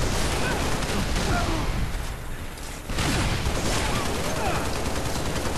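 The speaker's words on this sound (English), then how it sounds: "That was my teammate I was shooting." Sustained gunfire and explosions from a Halo Reach multiplayer match, dense and continuous with a brief dip midway, loud and close throughout.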